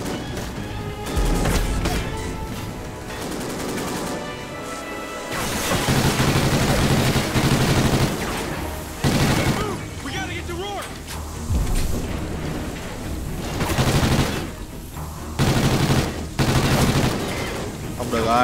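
Rapid bursts of Vector SMG submachine gun fire in the shooter game Call of Duty: Ghosts, loud and close, repeating in dense volleys with crashes and booms from the match, and a voice talking at times.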